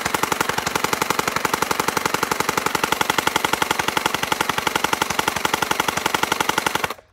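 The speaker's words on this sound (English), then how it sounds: "it's definitely not shooting 7 shots per second. It's more shooting like random shots" A gel blaster shooting water-gel Orbeez balls from a drum magazine fires a steady, rapid stream of sharp close shots for about seven seconds, then stops abruptly.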